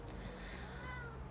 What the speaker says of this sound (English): Oh my gosh, kitty.